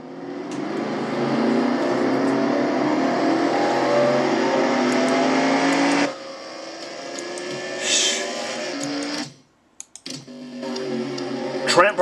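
A race car engine revving at high, sustained pitch in a racing video game, loud and continuous before dropping off sharply, followed by a brief silence and a renewed engine roar.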